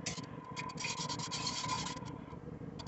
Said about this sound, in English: using my whisk to just mix this up a little bit